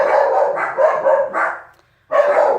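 Several dogs bark at a cat in bursts of rapid, close, loud barks, with a brief pause before another volley.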